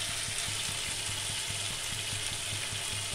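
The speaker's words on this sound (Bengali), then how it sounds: "এবার দইটা দিব, একটু দইটা দিয়ে কষবো" Spice paste for rui fish kalia cooking with yogurt in hot oil, a close, even hiss of sizzling with faint regular scraping ticks from stirring, steady throughout and with no voices.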